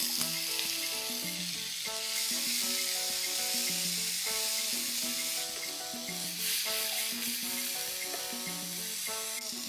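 Diced potatoes, slit green chillies and asafoetida fry in a pan with a constant soft sizzle, heard beneath steady melodic background music.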